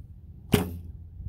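An arrow leaves a barebow fitted with ILF riser and limbs, giving one sharp, close limb slap with a brief thwack and no voices. The setting is outdoors and otherwise quiet.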